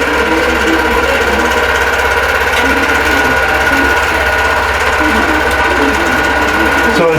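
A long-arm quilting machine running in manual mode stitches Fanfare Blocks in a Crown of Thorns pattern, a steady loud mechanical whirr with rapid needle knocking that continues without pause throughout.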